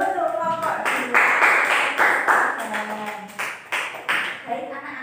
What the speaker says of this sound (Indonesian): Tepuk tangan dahulu untuk kelompok dua.